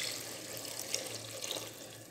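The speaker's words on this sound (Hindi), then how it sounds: "मैं इसमें 2 गिलास पानी ऐड करूंगा।" Water pours steadily into a pot of egg and chickpea curry (anda cholay), a continuous splashing stream at close range with no talking.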